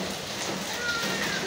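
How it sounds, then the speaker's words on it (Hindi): Rain and hail fall steadily on an icy, windy day, a soft, even patter of drops across the whole moment, with faint whistling wind. "बर्फ देखें, ओले देखें"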